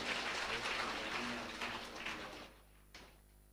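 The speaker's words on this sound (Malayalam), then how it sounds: "കൈയടിച്ച് നന്ദി പറയാം" A church congregation claps in thanksgiving after a testimony, a fairly faint, even patter of many hands that tapers off and stops toward the end, leaving a quiet room with one last stray sound.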